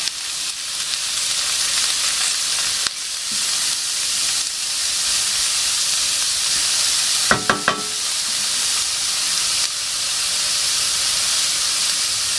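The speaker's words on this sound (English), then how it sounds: "Just keep stir frying that round until it's cooked enough for you." Loud, steady sizzling hiss of vegetables, including carrots, stir frying in oil in a pan, with a few clinks and scrapes of a utensil partway through.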